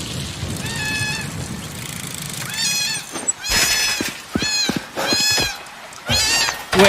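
A cat in a cat rescue video game meows repeatedly, a series of drawn-out, wavering cries at close range with short pauses between them, loud and clear over faint background sound.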